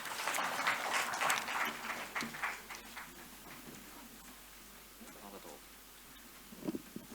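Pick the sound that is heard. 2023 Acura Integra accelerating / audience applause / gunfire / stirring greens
audience applause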